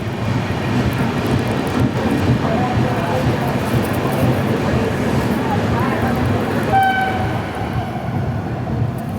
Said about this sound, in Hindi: दोस्तों, हमारी ट्रेन पहुंची है नडियाड जंक्शन